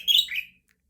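A pet budgie gives a short burst of bright, high chirps lasting about half a second, close and fairly loud, then falls quiet, with no voices.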